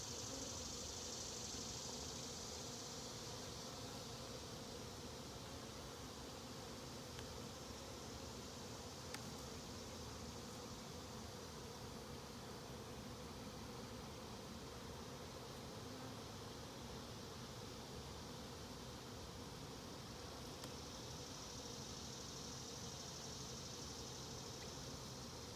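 Bees hum around an open hive in a steady, dense buzz that lasts throughout, soft and fairly close, with no voices.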